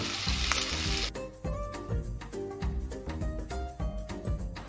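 Curry liquid poured into a hot frying pan of lightly stir-fried vegetables, opening with a loud, steady hiss that gives way after a second to clattering, bubbling cooking noises over a faint tonal background.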